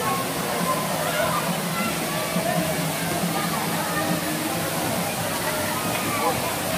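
Kalayaan Twin Falls pours as a steady, broadband roar of rushing water, loud and continuous throughout, with people talking faintly underneath.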